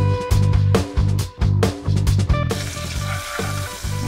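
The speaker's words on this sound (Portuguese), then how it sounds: "Na panela, coloco o alho, coloco um pouco de água para não queimar o alho." Garlic sizzles and fries in a pan with a splash of water, a loud steady crackle with repeated stirring clatters and scrapes throughout.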